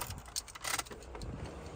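Nissan 350Z car keys jangle briefly, a few quick metallic clinks in short bursts, close by and fairly quiet.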